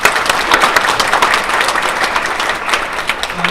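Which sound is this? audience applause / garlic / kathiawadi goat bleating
audience applause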